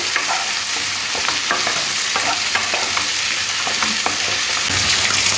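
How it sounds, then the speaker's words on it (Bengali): Mixed vegetables with half a tomato fry in a pan with a steady sizzle while a utensil scrapes and stirs in frequent, irregular strokes, close and fairly loud. "সবজিটা ভাজা ভাজা হয়ে গেছে"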